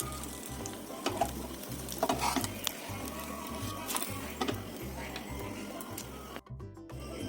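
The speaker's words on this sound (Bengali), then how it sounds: "তিন মিনিট পর আরও আরও এক মিনিট আমি ভেজে নেব" An egg vegetable roll fries in a pan without oil, giving a steady close sizzle with faint scattered ticks and crackles throughout and no talking.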